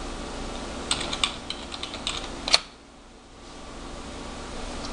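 Quick, light keystrokes on a computer keyboard enter a password, a short run of close taps ending in one firmer press, over a faint steady fan hum; the room then falls quiet.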